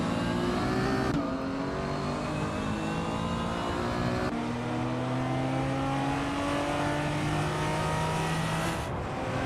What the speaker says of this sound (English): cruising in a classic 1985 Alfa Romeo GTV 6T